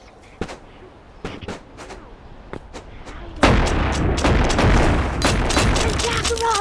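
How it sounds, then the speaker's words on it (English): Gunfire rings out in Animal Company arena mode, first scattered sharp single shots, then a loud sustained burst of rapid firing and impacts up close. "He's shooting carelessly."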